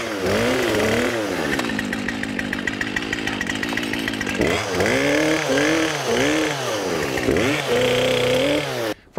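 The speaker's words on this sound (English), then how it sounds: "then we'll do a bore cut directional felling" A chainsaw makes a bore cut into a white oak during directional felling in Wisconsin woods, loud and close, its engine rising and falling in repeated surges as the bar works into the trunk.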